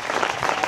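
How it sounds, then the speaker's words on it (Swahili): Students at a secondary school event in Kigoma applaud, a brief burst of dense clapping from a crowd. "Pigieni makofi sana."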